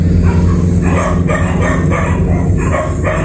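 Many dogs bark outside, loud and close, with a rapid series of overlapping woofs over a steady low rumble.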